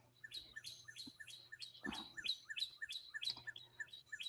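Indoor pet birds keep up a steady string of bright, repeating chirps, fairly faint, with a brief rustle or thump partway through and no talking.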